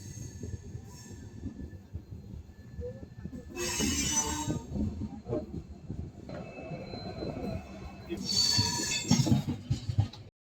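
The Delhi-Jaipur AC Double Decker Express pulls into Jaipur Junction with a steady rumble of wheels on the rails. Two bursts of bright, high wheel squeal rise over the rumble, and the noise builds to its loudest near the end.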